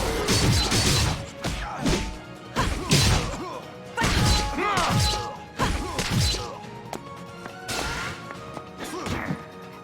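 Bombs exploding in the video game Indivisible, a series of about six loud crashing blasts that land at roughly even intervals, each with a sharp whack followed by rumbling debris.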